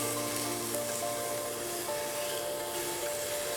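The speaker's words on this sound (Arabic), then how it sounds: "فهبتدي احط اللحمه. هتسمعوا صوت الصدمه." Meat sizzling steadily in a hot Tupperware pan at home, a continuous close crackling hiss with faint tonal hum beneath, no talking.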